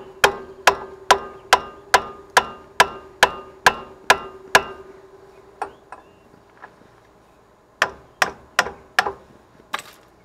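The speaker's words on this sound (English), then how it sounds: "I was tapping right here where the end of the guide pins go through." A hammer taps in a steady rhythm on the guide pins of a Chevrolet C10 front brake caliper, about a dozen sharp metallic strikes, a pause with softer knocks, then a few more taps.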